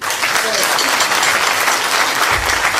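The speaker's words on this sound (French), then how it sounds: "Donc je vous demande de les applaudir." Concert audience applause at an evening show in Le Vigan, a dense, loud wash of clapping from a crowd, with a voice briefly heard under it near the end.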